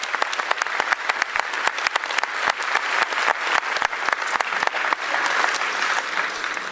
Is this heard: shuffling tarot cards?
no